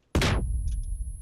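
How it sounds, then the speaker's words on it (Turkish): A thrown grenade exploding in PUBG, a single sudden loud boom with a short rumbling tail and faint small clicks afterward. "Aha bomba atıyor da."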